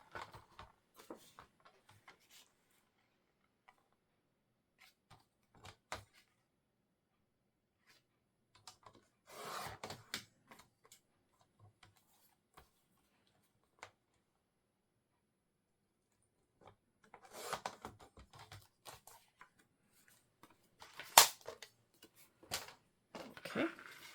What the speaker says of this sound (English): Now, let's cut our paper.